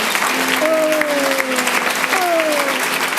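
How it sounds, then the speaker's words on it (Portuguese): A church congregation claps strongly for the Lord during a worship service, a steady wash of applause throughout while a preacher's voice rises over it. "Dá um forte aplauso ao Senhor."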